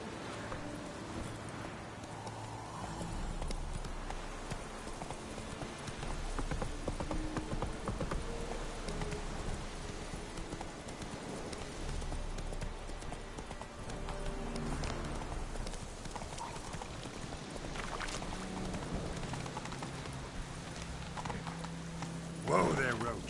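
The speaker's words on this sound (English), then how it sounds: "Whoa there, Roach." A horse gallops in The Witcher video game with steady, rhythmic clip-clop hoofbeats that run throughout the clip, under voices and game ambience.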